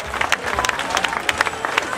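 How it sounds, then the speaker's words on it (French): A crowd claps for Oracle Team USA at a sailing medal ceremony, scattered and moderately loud, with an announcer's voice over it. "Applaudissements pour l'équipe américaine."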